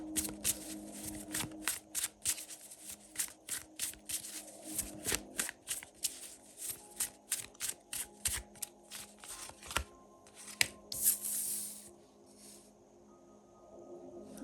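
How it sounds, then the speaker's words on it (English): Tarot cards being shuffled in quick riffling bursts, a rapid series of crisp, papery flicks repeated many times, close and fairly quiet. "Couple of more shuffles."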